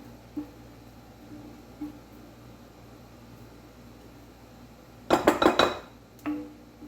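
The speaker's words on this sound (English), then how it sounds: "I am going to stir all of this in here" A spoon stirs tiramisu mixture in a bowl, heard as a short burst of clattering and scraping against the bowl near the end, set against an otherwise quiet kitchen hum.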